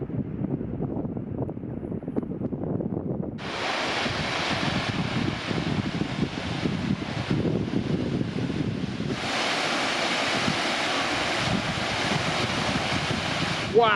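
A big waterfall at Mangatiti Falls on private farmland in New Zealand, a broad steady rushing roar close by that swells louder partway through, with wind buffeting the microphone.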